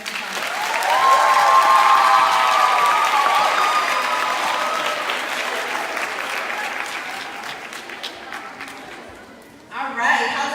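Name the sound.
audience applause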